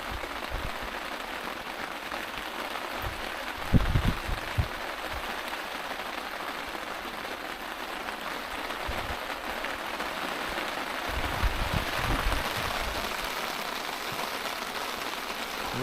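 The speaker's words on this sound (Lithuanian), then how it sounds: "Gavom biškį lietaus" Light rain patters steadily and softly on the surroundings while bottom rods are set out for tench fishing, with a few louder knocks and handling sounds partway through and no talk.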